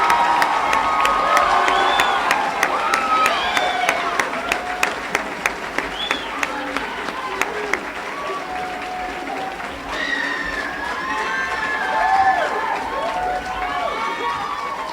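Delegates in a large assembly hall give a big round of applause with whoops and cheering for the 2019 presiding officers, loud and crowded, with voices shouting over clapping that swells again toward the end.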